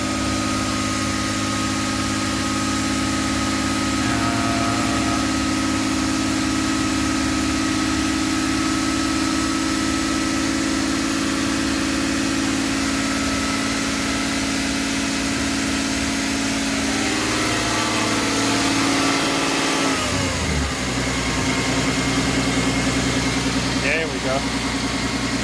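A turbocharged M104 engine in a Mercedes 190E idles steadily after starting, a loud, even drone with a slight change in tone near the end, running under occasional talk.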